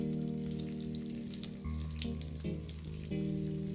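Shrimp sear in a very hot pan with a steady, close sizzle and crackle running throughout, under sustained tonal background music, with no talking.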